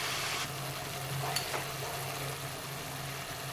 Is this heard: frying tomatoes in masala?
yes